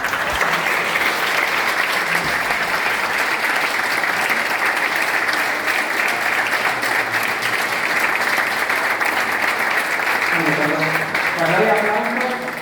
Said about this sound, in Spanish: Cuando hay aplausos